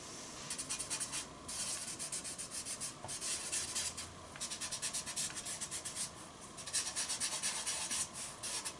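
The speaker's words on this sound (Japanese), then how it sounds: "白いパレット用の紙の上に必要な色を茶こしで削って準備しています" Soft pastel sticks scraped through a small mesh tea strainer onto white palette paper, a close, quiet, rhythmic rasping in short repeated strokes with brief pauses between them.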